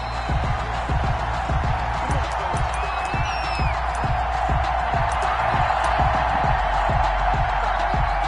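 A stadium crowd in an NFL video game roars steadily before a Tennessee Titans versus Pittsburgh Steelers matchup. The loud, continuous wash of cheering has low rhythmic thumps running through it.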